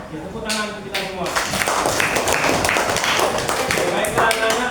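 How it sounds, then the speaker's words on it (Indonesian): Children in a grade 6 classroom clap their hands together, a dense run of quick, sharp claps lasting several seconds, with voices talking over and between them. "Tepuk tangan untuk kita semua."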